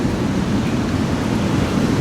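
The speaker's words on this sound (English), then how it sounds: "We are on the beach, like the water even comes up here sometimes." Ocean waves wash onto the beach at Hikkaduwa, Sri Lanka, as a steady, close roar of surf with wind rushing over the microphone and no voices.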